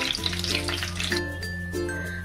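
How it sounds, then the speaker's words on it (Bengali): Whole spices (bay leaves, cardamom, cinnamon and cloves) sizzle and crackle in hot oil and ghee, a close, steady frying hiss with clinks of a utensil against the pan and no talking. "ফোড়নটা একটু ভাজা হবে"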